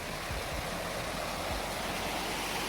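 The Winhall River rushes beneath a trail bridge, swollen by rain, giving a steady, dense hiss of fast-moving water at close range with no voices.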